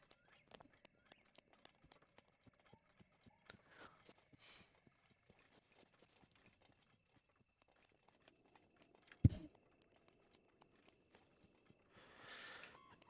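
A horse in Zelda: Breath of the Wild walks with faint, steady clip-clop hoofbeats, soft and distant, with a sharp thump partway through and a brief rustling burst near the end.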